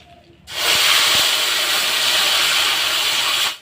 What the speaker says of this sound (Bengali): জিরে তেজপাতা শুকনো লঙ্কা তেলের পর দিয়ে দেবো